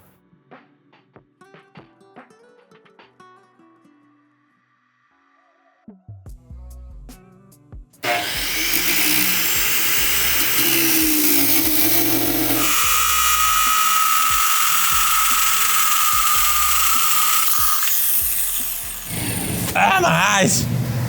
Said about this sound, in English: I'm gonna go out there and take that billet out of the forge and grind all the scale off of it